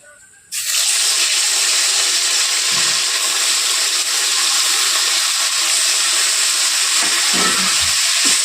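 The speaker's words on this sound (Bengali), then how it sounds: "মাছগুলো ভেজে নেব" Fresh bata fish fries in hot oil, a loud, steady broadband sizzle that bursts in suddenly after a brief quiet start and holds strongly, with a few faint low knocks near the end.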